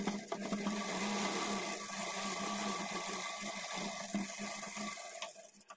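A sewing machine runs continuously while stitching the edge of blouse fabric, a steady mechanical whir with faint clicks that fades out at the end.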